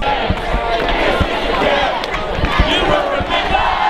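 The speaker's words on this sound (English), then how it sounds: "Crowd's building up." A crowd gathering at a youth Easter camp event indoors, a dense hubbub of many overlapping voices with shouts and occasional thumps and bangs, steady and fairly loud throughout.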